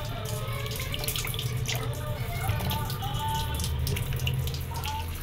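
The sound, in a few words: washing cut hilsa fish under running tap water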